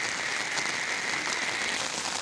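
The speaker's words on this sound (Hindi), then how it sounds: "काफ़ी तेज़ बारिश लगी हुई है" Heavy rain falls in Taxila, Pakistan, as a steady, fairly faint hiss of drops on surfaces with no breaks.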